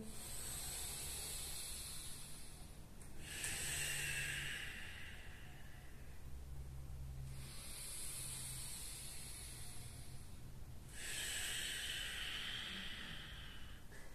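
Deep yoga breathing, long airy inhales and exhales alternating slowly in broad hissing swells, each lasting several seconds, close and unaccompanied by talk.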